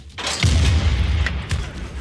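Cannon fire in Civilization 6 hitting crossbowmen: a loud, booming low blast that rolls on with rumble, followed by a second, weaker boom about a second later.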